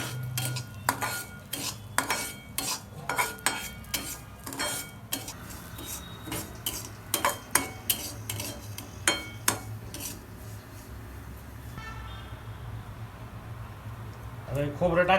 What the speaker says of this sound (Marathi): त्याला चांगलं असं भाजून घ्यायचंय.